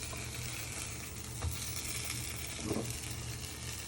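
Cooked chicken pieces go into a pan on top of onions and mushrooms, which keep up a steady, close sizzle with a couple of soft bumps as the pieces land.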